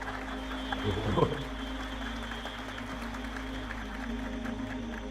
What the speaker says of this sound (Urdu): یہ تو دکھ والی بات پہ تم نے تالیاں بجائی ہیں